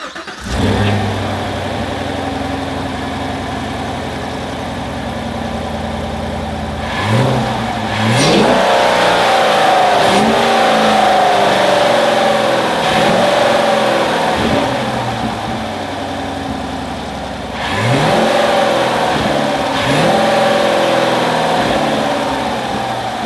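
A 2017 Chevrolet Camaro SS V8 engine with a K&N Blackhawk cold air intake starts, idles with a deep rumble, then revs up loudly twice, roaring near and settling back between blips.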